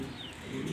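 A black exhibition pigeon coos softly, a single low burbling call close by with no talk.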